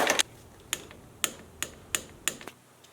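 A torque wrench tightening the cylinder bolts on a 2018 Yamaha YZ125 dirt bike during a top-end rebuild: a series of about seven sharp metallic clicks spaced unevenly over a few seconds, fairly quiet in a still room.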